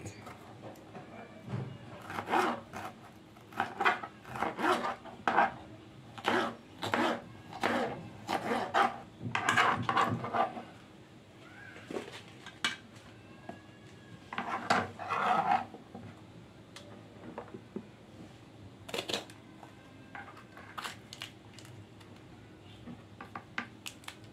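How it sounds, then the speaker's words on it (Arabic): A knife chops colored bell peppers on a cutting board, a series of sharp close taps in uneven bursts with quieter pauses between, under a low background hum. "نقطع بقى كل الكمية بتاعتنا ونرجع نكمل مع بعض"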